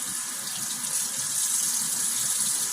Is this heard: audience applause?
no